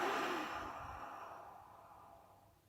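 A slow breath out during a quiet meditation session, a soft airy sigh that fades steadily over a few seconds, close and alone with no talk.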